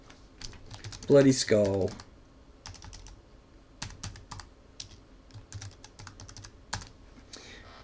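Someone types a folder name on a computer keyboard: a scattered run of light key clicks, with a short spoken phrase partway through.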